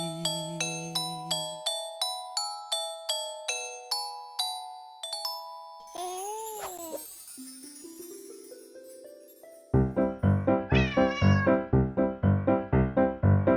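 Cartoon cat meows ring out in a French children's song about a lost cat: bright synth notes come first, then a loud run of repeated sung-sounding meows near the end.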